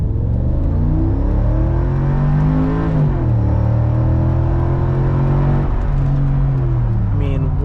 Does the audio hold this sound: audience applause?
no